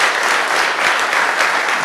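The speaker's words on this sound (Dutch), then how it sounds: "Ik wil ook graag een applaus voor de wethouders voor het beantwoorden van de discussie." Steady, close applause from an audience at a city discussion meeting, continuous and even for about two seconds.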